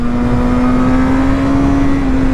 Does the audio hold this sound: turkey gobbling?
no